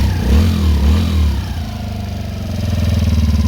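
A 2016 Yamaha Raptor 90 ATV engine idles close and loud, first in an uneven, loping burble, then settling into a steadier, quicker putter after revs are adjusted.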